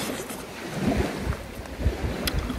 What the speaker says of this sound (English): a warm meal with the sound of the waves